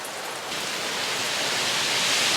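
Heavy, wind-driven rain with big drops pelting down during a cold mountain overnight hike, a dense, loud, steady hiss that swells slightly and fills the whole clip, with no voices.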